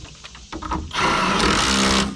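A bolt is driven tight into the turnbuckle of a fiberglass/polymer pool panel, making a loud, steady mechanical whirr that starts abruptly partway through and runs on, preceded by a few short clicks and knocks.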